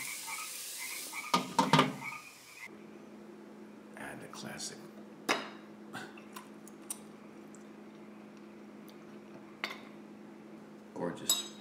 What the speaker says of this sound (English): As the frogs keep barking.